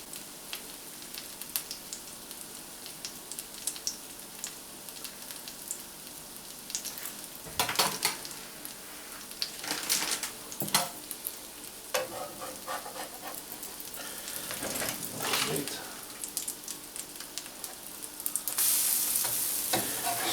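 An American pancake fries in butter in a pan, giving a soft continuous sizzle with occasional louder crackles and utensil scrapes, close and fairly quiet with no talking.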